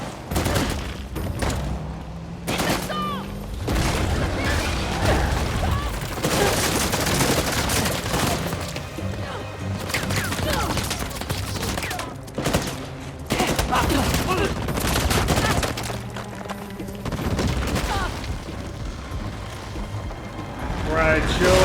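Gunfire in the video game Uncharted: The Lost Legacy, repeated bursts of shots and booms in irregular volleys over a rumbling game soundscape, loud and close, with occasional mechanical clatter between exchanges.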